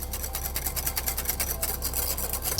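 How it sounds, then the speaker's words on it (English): Béarnaise sauce whisked steadily in a bowl, a close, rhythmic fast scraping and swishing that runs evenly with no talking. "Keep whisking that for a little bit."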